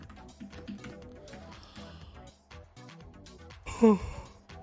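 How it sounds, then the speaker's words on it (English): A person yawns with a drawn-out, breathy, rising vocal sound near the end, after quiet keyboard tapping and soft movement at a desk. "Oh, excuse my yawn."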